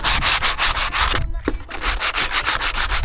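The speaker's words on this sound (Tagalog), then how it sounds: "Siyempre bago pinturahan amigo, kailangan mo lang lihain" A service boat hull is hand sanded ahead of epoxy paint: loud, rhythmic back-and-forth scraping strokes repeat evenly, with one brief pause midway.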